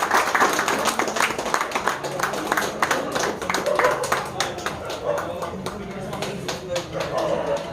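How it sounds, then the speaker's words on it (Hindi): An audience claps at an award and prize distribution function, with a steady burst of applause fading slightly near the end as someone talks over it. "तालियां दोस्तों जोर से।"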